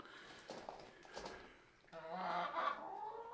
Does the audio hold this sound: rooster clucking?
yes